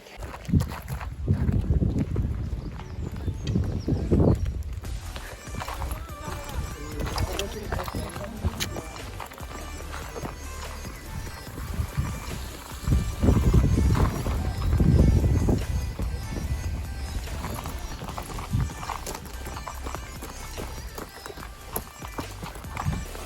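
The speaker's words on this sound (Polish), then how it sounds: "Dobrze, pierwszy galopik za nami." A horse canters and gallops over rough mountain ground, its hooves clip-clopping in bursts close by under wind, while a rider talks throughout.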